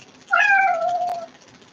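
A cat gives a single clear, drawn-out meow, close and alone in a quiet room.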